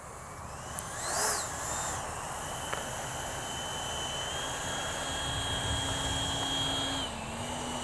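An H-King Flycat V2 twin-engine electric RC jet plane flies at a distance outdoors, giving a thin, steady whine that rises and shifts in pitch as it passes, fairly faint over a low wind-like background.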